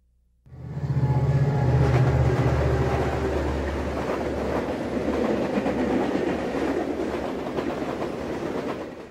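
A Burlington Northern passenger train rolls along the rails, a loud, steady rumble with rhythmic clickety-clack of wheels over track joints starting abruptly and continuing throughout, with a low horn-like tone early on.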